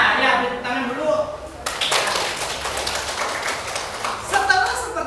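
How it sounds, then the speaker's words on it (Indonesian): Pupils in a classroom lesson clap their hands together in a short, uneven burst of applause, close and moderately loud, mixed with voices talking over and around it. "Nah, ya, tepuk tangan dulu."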